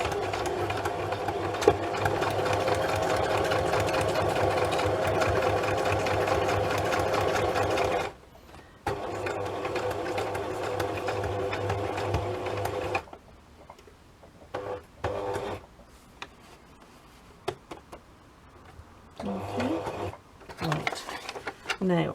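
A sewing machine stitches pages into a handmade junk journal, its steady mechanical whirr running loud and continuous for several seconds, then stopping and restarting in shorter bursts between pauses.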